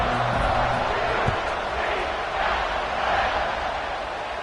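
A stadium crowd in the College Football 26 video game, a UCF dynasty matchup against Colorado, keeps up a steady loud roar and buzz that runs unbroken throughout, with a commentator's voice partly over it.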